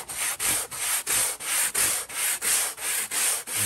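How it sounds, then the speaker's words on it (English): A sanding block is rubbed back and forth over a model concrete crash wall for a slot car layout, about ten even, loud, rasping strokes in a steady rhythm with brief gaps between them. "you really want to use a sanding block to do this. So all we're going to do is just go ahead and sand this down a little bit."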